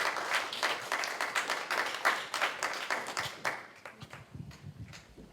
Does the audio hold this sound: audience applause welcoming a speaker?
yes